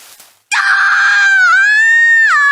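A loud, sustained scream from the Mix Master animated series cuts in abruptly after a short spoken phrase, holding for about two seconds with a wavering pitch that dips and then rises before breaking off.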